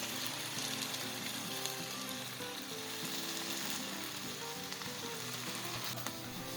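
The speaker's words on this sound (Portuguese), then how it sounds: "Deixo esse molho refogando por mais um tempinho" Tomato sauce sautéing in a pan for a chayote lasagna, seasoned with black pepper and salt, gives a steady soft sizzle with faint stirring, continuous and fairly quiet throughout.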